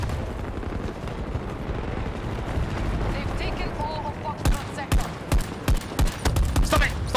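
Gunfire in Battlefield 2042 builds from a dense, rumbling battle backdrop into a sharp series of close, rapid shots and bursts in the second half, with a person talking over it.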